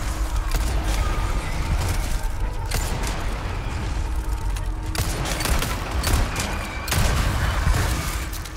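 Rapid gunfire from Resident Evil 4 Remake crackles continuously for several seconds, dense and loud, with sharp shot transients layered over game noise.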